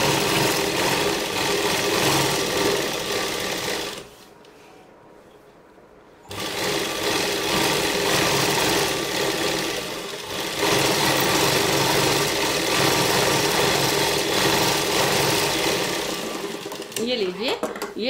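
Up close, a sewing machine stitches a seam on a pregnancy dress in a loud steady whir, stopping for about two seconds and then running on, with speech in the background.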